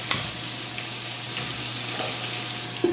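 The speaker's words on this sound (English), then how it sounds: "And now we are ready to mix the cauliflower." Sautéed cauliflower being stirred in a frying pan with parsley and chicken, a soft steady sizzle with a few clinks of the utensil against the pan.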